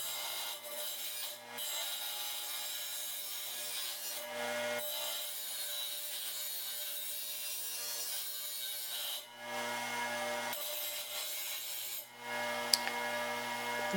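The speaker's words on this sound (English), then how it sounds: "You always want to wear glasses when cutting tile" A blade cuts through ceramic tile for a Mickey Mouse tile design, giving a steady, close grinding rasp that runs almost continuously with a few brief pauses and no talking.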